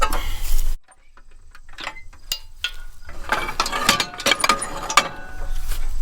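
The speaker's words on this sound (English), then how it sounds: "I think these bolts need to be tightened up just a little bit." Metal bolts are tightened with a wrench, giving irregular close clinks and quick ratchet-like ticks. A short loud noise comes before them, and no one speaks.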